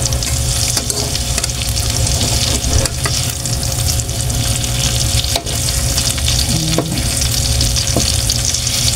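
Pork pieces for salt-based adobo fry in a pan until golden brown, a steady loud sizzle and crackle with occasional stirring scrapes throughout, no talking.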